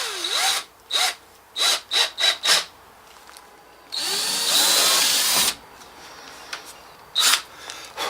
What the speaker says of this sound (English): I'm going to drill me a pilot hole.